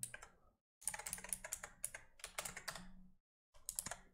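Close, rapid typing on a computer keyboard while filling in a sign-up form, in two quick bursts of clicking keys separated by a short pause, with no talking.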